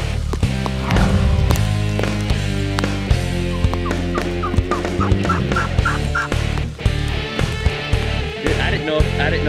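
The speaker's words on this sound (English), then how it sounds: "see if there will be some birds gobbling up there this morning." Wild turkeys gobble in the hills on a rainy morning amid other loud sounds, with repeated rattling calls layered over dense, close noise.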